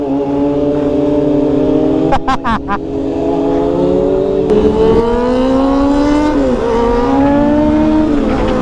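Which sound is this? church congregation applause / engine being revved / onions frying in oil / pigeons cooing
engine being revved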